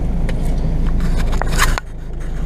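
A Mitsubishi Shogun Sport rolls along a gravel track with a constant low engine rumble and crunching tyre noise. Scattered scrapes and crackles ride over it, then the sound drops off sharply near the end.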